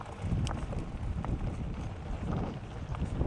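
Strong wind blows outdoors in the Sierra Nevada mountains, a steady low rushing roar buffeting the microphone with no speech over it.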